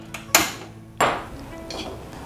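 Grated coconut dry-roasted in a metal surabi mold, two sharp metallic clanks from the utensil against the mold, then softer scraping and a faint sizzle, close by.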